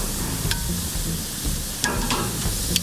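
Broccoli sizzling flat side down on a grill over an open wood fire, a steady close crackle and hiss with a few sharper pops, no talking.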